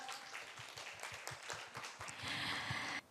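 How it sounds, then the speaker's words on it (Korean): Audience clapping to welcome speakers onto a stage at an environmental tech festival, a series of quick, fairly faint claps that build into a brief, fuller burst of applause before cutting off. "여러분 큰 박수로 환영해 주시기 바랍니다."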